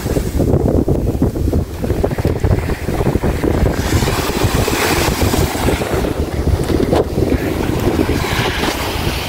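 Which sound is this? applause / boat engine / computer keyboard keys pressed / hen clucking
boat engine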